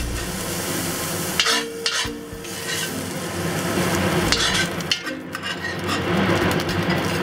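Minced pork sizzles and fries in a hot pan for shrimp sauce fried rice, with steady loud crackling, occasional stirring scrapes and clanks of a utensil against the pan, and no talking.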